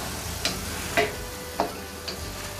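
Potatoes fry in hot oil with a steady soft sizzle, broken by several sharp clinks of a utensil stirring the pan at roughly half-second intervals; no talking.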